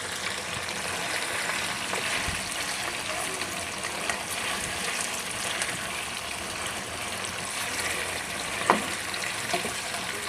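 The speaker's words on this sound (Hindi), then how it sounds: "तो ये देखें हमारा चिकन अच्छे से हो गया है फ्राई" Chicken frying with garlic in a pan, giving a steady, even crackling sizzle throughout with a faint tap or two of a utensil near the end.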